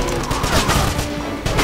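Rapid machine gun fire in the shooter game Wolfenstein crackles as a loud, dense burst that fills the short stretch, close and harsh with no pause.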